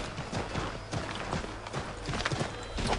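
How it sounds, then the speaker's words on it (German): Horse hooves clip-clop steadily in Assassin's Creed 3 as a ridden horse moves along at a brisk, even rhythm, fairly quiet and close throughout. "Ich steige auf das scheiß Pferd auf jetzt."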